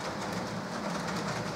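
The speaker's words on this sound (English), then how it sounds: "So, a complete train." A freight train rolls past on rails with a continuous, even rumble and faint wheel clatter, heard steadily at a modest distance without voices.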